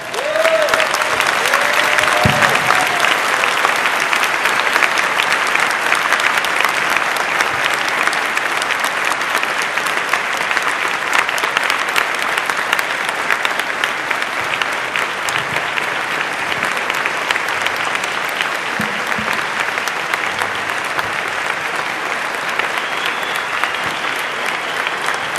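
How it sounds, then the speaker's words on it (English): Sustained audience applause at a leadership talk on networking, a dense continuous round of clapping lasting the whole stretch with a faint voice early on. "Do they deserve a round of applause?"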